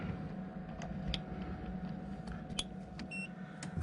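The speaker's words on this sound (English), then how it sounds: "All right, we got the beep" A single short electronic beep from an Oukitel P2001 portable power station sounds near the end over a low, steady mechanical hum with occasional faint ticks.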